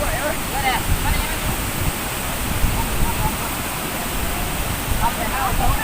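Steady broadband rush of a waterfall in Laos, a constant loud roar of falling water that fills the whole clip with only slight swells and no clear breaks.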